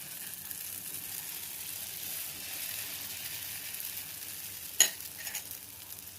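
Oats dosa batter poured into sesame oil in a small tempering ladle sizzles quietly and steadily, with a sharp clink of metal near the end.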